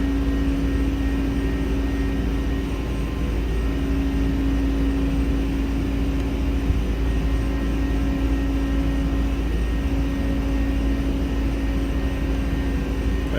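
Airbus A300-600 engines at climb thrust, heard from inside the airliner: a loud, steady, unbroken roar with a constant low hum throughout.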